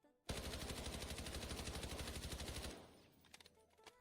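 KC-17 rifle fired in the Delta Force video game, a rapid, loud automatic burst of about two and a half seconds followed by fading echoes and faint clicks.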